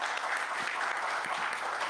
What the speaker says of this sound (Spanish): Les pido que le brindemos muchos fuertes aplausos a la maestra Vera, a la maestra Trejo